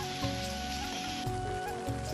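Steady rain falls on farm fields of ginger, beans and chilli, a dense, even hiss with occasional heavier drops, fairly faint and without talk.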